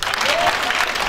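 A church congregation at a spiritual retreat praise gathering applauds in dense, steady clapping that fills the whole moment, loud and close, with a faint voice rising briefly through the middle.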